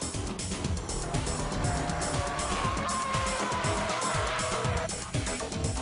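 Car braking hard and skidding while drifting, with a continuous loud engine roar and tire scrub sliding through several seconds, rising and falling steadily without voices.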